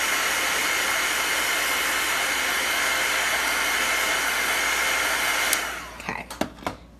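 A hair dryer blows steadily and loudly at close range over chalk-painted craft magnets, then cuts off near the end, followed by a few brief clicks and handling knocks.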